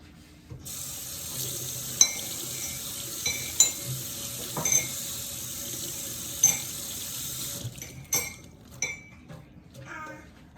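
Tap water running steadily into a sink while cabbage is washed for homemade sauerkraut, a continuous hiss with occasional knocks and clinks, then the flow stops and scattered handling and dripping sounds follow.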